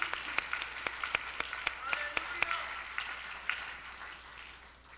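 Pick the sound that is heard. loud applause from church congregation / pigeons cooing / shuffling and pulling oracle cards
loud applause from church congregation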